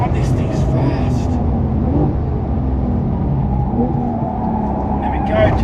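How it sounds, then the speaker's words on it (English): A Porsche accelerates hard on a race track, a loud close engine roar that stays strong throughout with shifting tones, and someone speaks over it. "As you can probably hear, the acceleration of this car is phenomenal."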